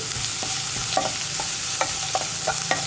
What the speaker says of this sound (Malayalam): ഇനി ഇതൊന്ന് നന്നായിട്ട് വഴറ്റിയെടുക്കുക